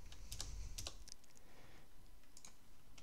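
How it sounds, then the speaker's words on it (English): Code being typed on a computer keyboard, quick soft key clicks in small irregular bursts, close and quiet. "I'll just type it out"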